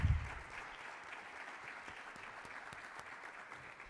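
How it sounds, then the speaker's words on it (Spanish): Audience applause at a talk event, steady light clapping from a small crowd that follows a brief low thump and continues evenly at moderate, somewhat distant level. "un aplauso por favor para Aitana y para Alfonso."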